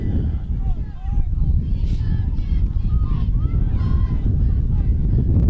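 Steady wind roars across an outdoor high school football field during a Minneapolis versus Bennington district game at night, a constant low rumble with brief faint tones over it and a voice talking.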